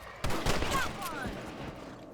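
Several gunshots crack out in quick succession during a rabbit hunt in the Red Dead Redemption video game, sharp, close reports over a busy game soundscape with a voice speaking faintly beneath.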